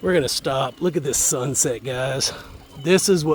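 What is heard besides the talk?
No distinct noise like a dog, phone or traffic.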